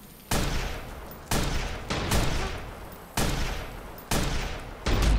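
Gunfire in the Watch_Dogs video game: about six loud, sharp gunshots spaced roughly a second apart, each with a short booming tail, and no talking.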